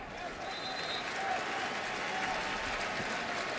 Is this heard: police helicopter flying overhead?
no